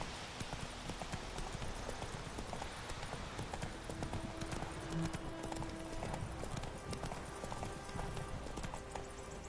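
Hooves of the horse Roach gallop steadily in a PS4 video game, a continuous rapid clip-clop drumming at moderate level over a dense bed of game ambience and music.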